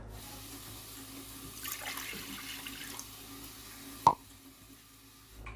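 Tap water runs steadily and quietly into a pot for pickling quail eggs, ending with a sharp clunk of metal.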